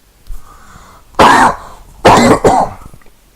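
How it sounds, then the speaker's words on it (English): Two harsh coughs in quick succession, close and loud, with a short pause between them. "Sorry about the coughing."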